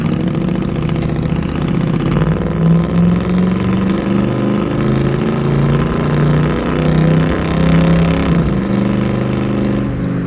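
A 1967 Chevrolet Camaro SS convertible with a 350 V8, automatic transmission, fuel injection and Magnaflow exhaust runs close by, its steady loud idle rising and falling through a few light revs without pause.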